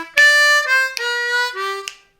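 A C harmonica plays a bar-four blues response riff, starting on a two-draw whole-step bend; several sustained, reedy tones with pitch slides, loud and close, with no talking.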